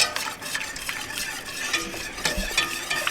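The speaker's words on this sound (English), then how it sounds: "as you add the milk, you continue to stir and whisk vigorously" Milk being stirred and whisked into a thickening sauce for homemade beef lasagna, giving steady scraping and clinking against the pan with a faint sizzle underneath, close and moderately loud throughout.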